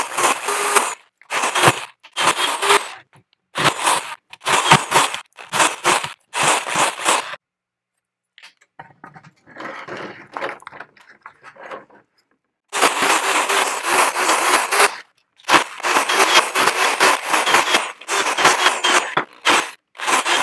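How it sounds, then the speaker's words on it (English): A power drill bores big holes in repeated loud bursts with short pauses between them, followed by a quieter, sparser stretch of grinding before heavy drilling resumes, while building a low-pressure aeroponics system. "I'm going to start with drilling a bunch of big holes"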